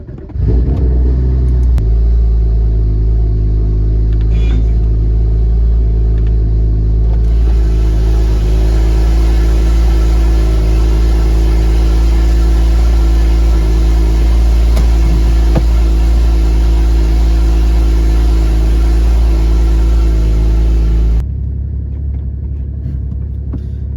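A tuned Porsche GT4 engine idles in sport mode with exhaust flaps open, a deep, steady exhaust rumble, loud and close, holding constant before cutting lower near the end.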